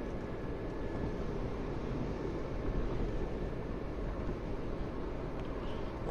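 A 2021 Renault Clio 1.0 with factory LPG pulls at full throttle, a steady, broadband engine and road roar heard from inside the cabin, even and unbroken with no speech over it.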